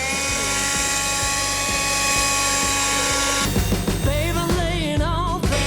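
Sequoia SBLB4022BT cordless leaf blower running steadily on its second power setting, a loud continuous motor whine and rush of air that changes pitch and wavers partway through.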